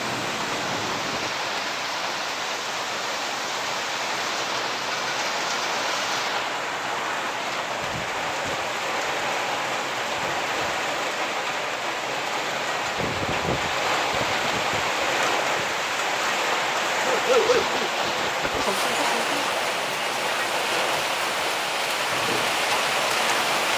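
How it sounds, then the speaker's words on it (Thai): Heavy storm rain pours steadily and loudly on surfaces at a railway staff housing estate, a dense continuous wash of hiss with brief gusty swells and no clear voices. "ฝนสาดเลยฝนสาด"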